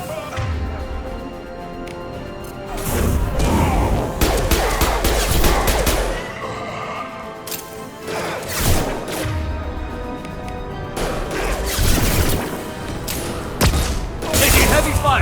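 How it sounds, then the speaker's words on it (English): Video game gunfire in Mass Effect 2 during a firefight in Omega's quarantine zone. Dense, loud bursts of shots and crashing impacts come in waves across the whole stretch, with brief lulls between them. "Taking heavy fire!"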